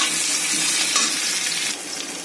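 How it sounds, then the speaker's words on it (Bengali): Prawns hit a hot wok of reddish-browned onions with garlic and a green chilli, setting off a steady, loud, close sizzle with no voices that eases slightly toward the end. "এই আমি দিয়ে দিলাম কড়াইতে কটা চিংড়ি মাছ, পেঁয়াজটা লাল লাল হয়ে গেছে, দিয়ে দিয়েছি চিংড়ি মাছ।"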